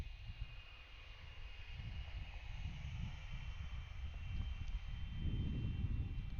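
An Alaska Airlines jet departs from Anchorage airport, a low distant engine roar that rumbles steadily and grows slightly louder toward the end, mixed with light wind noise.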